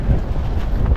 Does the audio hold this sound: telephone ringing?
no